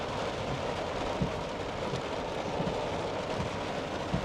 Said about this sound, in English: look how it's raining now. It's coming down in absolute buckets.